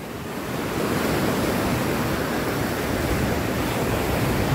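Loud, continuous roar of large ocean waves surging and crashing, a dense wash of surf noise with no pauses.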